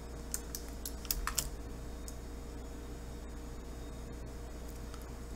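Computer keyboard keys pressed while working in GIMP: a handful of quick, light clicks early on, then sparse taps, faint over a steady background hiss.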